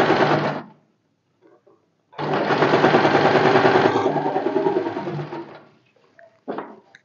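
A sewing machine stitches a sleeve onto a garment, finishing with a back-and-forth double lock stitch, heard as a short whirring burst, a long steady run of several seconds, then a brief final burst, close and loud with no talking.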